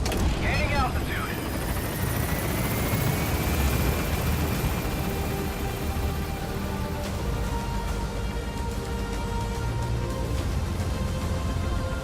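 A helicopter in Metal Gear Solid V climbing higher, its rotor and engine a steady loud drone with rising whine, while a voice speaks over it.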